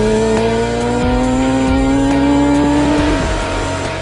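A Suzuki Hayabusa motorcycle screams at over 150 mph on a mile-long speed run, one loud sustained high-revving engine tone climbing steadily in pitch, then dipping briefly at a gear shift before pulling on.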